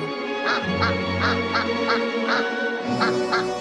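A duck quacks about ten times in a steady, evenly spaced series, loud and close, with a low background hum underneath.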